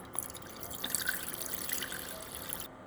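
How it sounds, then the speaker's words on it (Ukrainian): A small amount of water poured into a saucepan, a steady splashing trickle at close range that stops abruptly, with no talk. "Спочатку вливаю в каструльку трішечки води і додаю пів літра молока."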